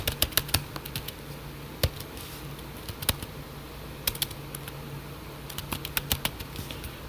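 Close, quick keystrokes on a computer keyboard come in irregular bursts of clicks with short pauses, including one sharper tap, and no one speaks.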